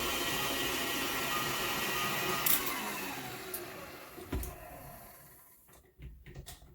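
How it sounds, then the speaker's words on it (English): An electric stand mixer whisks heavy whipping cream with vanilla in a chilled bowl. It makes a steady, moderate whirring drone that slows and fades near the end, leaving a few faint knocks. "put it in the mixer and start whisking"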